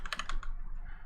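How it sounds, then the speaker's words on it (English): A short burst of fast keyboard typing on a computer keyboard while navigating the galaxy map in Elite: Dangerous, several quick clicks clustered in the first half second and then fading into quiet room noise. "Using the keyboard on the galaxy map."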